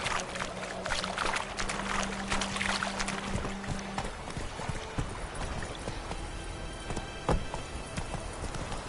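Roach the horse's hooves clip-clopping in The Witcher 3, a steady rhythmic trot heard up close amid ambient game sounds.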